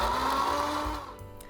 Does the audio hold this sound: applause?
no